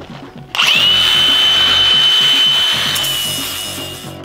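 An angle grinder fitted with a flap disc spins up abruptly and grinds down steel welds on a solid steel frame for a modular house, a loud, steady whine that slowly tapers off, with no voices.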